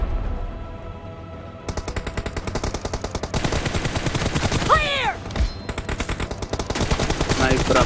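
Rapid automatic gunfire rattles through a team deathmatch in a shooting video game, dense steady bursts running nearly the whole time, with a short break and a brief voice partway through.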